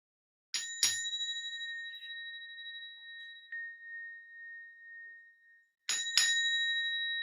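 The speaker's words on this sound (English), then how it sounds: "Hopefully you can hear the bell." Meditation bell struck twice in quick succession, then left to ring out in a long, clear, slowly fading tone, before another double strike starts a fresh ringing; clean and isolated, with no talking.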